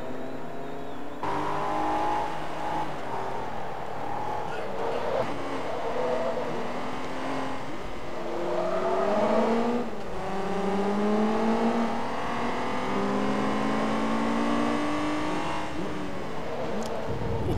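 Race car engines in the Forza Motorsport 2 video game at the Mugello circuit, a continuous loud drone of several cars with rising and falling pitch sweeps as they accelerate and pass one another.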